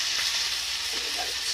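Dumplings sizzle and fry steadily in a hot pan while being flipped and stirred, a continuous close hiss with faint scraping.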